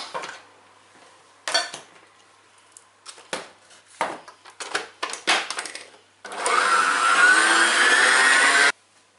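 A kitchen mixer blends praline into cream for a Paris-Brest. Scattered clinks and scrapes of utensils come first, then a loud, steady motor whir runs for about two seconds before cutting off.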